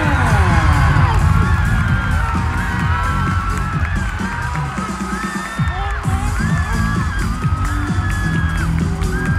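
A huge audience roars and cheers at the Miss Grand Thailand 2022 pageant, a loud, continuous wall of shouting, whooping and screaming voices that stays intense throughout.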